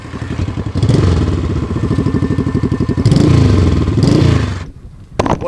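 A 1968 Honda CL350 motorcycle engine idling at about 1,250 RPM, a loud, close, rapid lumpy putter with uneven pulses and a short break near the end.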